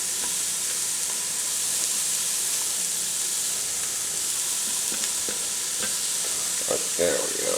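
Mushrooms sizzle in a pan for Salisbury steak, a dense, loud, steady hiss of frying up close with a few faint stirring knocks near the end and no speech.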